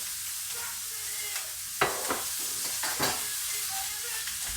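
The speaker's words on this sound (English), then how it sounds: "I'm going to drop just a little bit of butter into the pan." A small knob of butter sizzles in a frying pan, a fairly quiet, steady hiss close by with a few sharp clicks and spits scattered through it.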